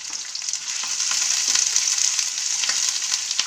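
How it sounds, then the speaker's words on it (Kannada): Green chillies and garlic sizzle and crackle steadily in a hot steel pan, a dense close frying hiss with faint stirring scrapes and no voices. "ಇದಿಷ್ಟನ್ನು ಬೆಳ್ಳುಳ್ಳಿ 1 ಗೆಡ್ಡೆ ಬೆಳ್ಳುಳ್ಳಿ ಹಾಕ್ಕೊಂಡು ಚೆನ್ನಾಗಿ ಹುರ್ಕೋಬೇಕು."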